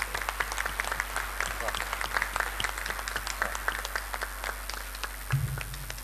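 A crowd applauds steadily for several seconds, dense clapping from many hands filling the room, with a low hum underneath.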